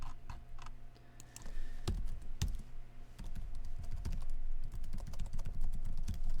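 Typing on an old, well-used computer keyboard, close and fairly quiet, with quick irregular key clicks and a few heavier thumps from the space bar or enter key.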